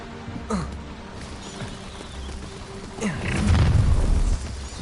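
A Confringo blasting spell in Hogwarts Legacy, with a few sharp cast whooshes followed by a heavy, rumbling fiery explosion that swells and then fades.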